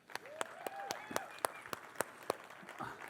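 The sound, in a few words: audience applause at a tech talk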